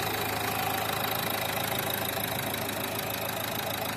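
A used European import car's engine idles steadily under the hood, an even mid-pitched hum with a faint rhythmic knock, close and continuous with no one speaking.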